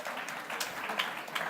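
A lone person claps a few scattered times in a large hall during a convention panel discussion; the sparse, fairly faint claps land over a steady wash of room noise.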